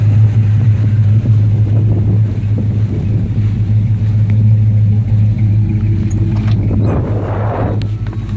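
A 1968 Plymouth Roadrunner clone with a 440 engine rumbles at a steady idle close by, a deep continuous drone, with a brief rise near the end as it starts to rev.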